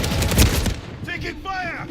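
Gunfire in a video game bursts loudly for under a second, then gives way to game voice callouts and tonal effects.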